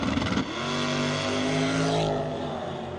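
A small block stroker station wagon at a drag race revs hard, a loud close engine note that climbs in pitch, peaks and then drops back near the end.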